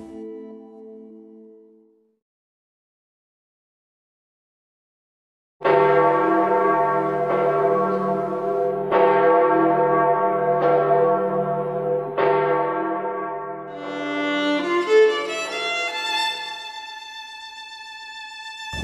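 Church bells ring out after a brief silence, loud struck tones repeating every second or two, then higher bells join in a fuller, overlapping peal.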